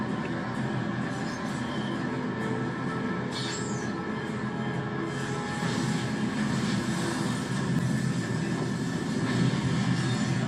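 A train in an action scene from the TV series Arrow, a steady loud rumble of rolling rail cars with wheel noise that holds continuously throughout and swells slightly toward the end.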